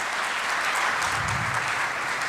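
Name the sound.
audience applause for an award honorable mention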